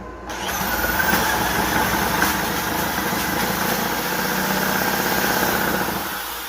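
A 1981 Evinrude 15 hp outboard motor in gear at full throttle with the choke closed, cranking steadily as it tries to start, a loud continuous mechanical churn lasting several seconds before cutting off, close up with no talking.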